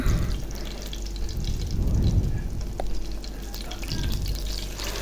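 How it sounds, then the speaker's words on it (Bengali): Kural fish frying in oil in a home kitchen, a steady close sizzle and crackle of hot oil with soft bubbling throughout. "এই যে দেখুন আমার মাছটা প্রায় হয়ে গেছে ভাজা"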